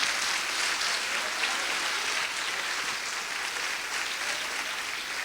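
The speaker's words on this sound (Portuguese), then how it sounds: "Dê um aplauso a Jesus bem forte" Sustained applause from a church congregation, a dense, even wash of many hands clapping together, steady and moderately loud for several seconds with no talk over it.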